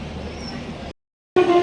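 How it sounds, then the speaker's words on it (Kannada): A train pulls away on a Mysuru to Mantralaya trip with a close, steady rumble. The rumble cuts out briefly, then returns with a short horn-like tone. "ಈಗ 1:15ಗೆ ಹೊರಡುತ್ತೆ ಟ್ರೈನು"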